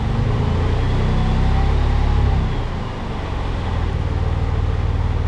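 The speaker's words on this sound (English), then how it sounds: "I think I'm gonna have to start this up and actually run it in gear and listen to try to pinpoint the noise." A high-mileage, beat-up Porsche 911 Turbo engine runs at a steady, dense idle, heard close and fairly loud, with a slight dip and recovery in its drone partway through.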